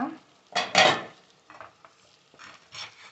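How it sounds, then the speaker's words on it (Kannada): Pieces of black pepper chicken fry in a pan and are stirred in short bursts, with scraping and clinking of the utensil against the pan over a soft sizzle. "ಇದು ಸ್ವಲ್ಪ ಫ್ರೈ ಆಗಲಿ, ಹಿಂಗೇನೆ"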